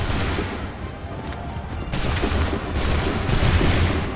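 Musket volley fire from the Assassin's Creed 3 video game, a dense rolling clatter of black-powder shots and booms that swells loudly through the battle noise.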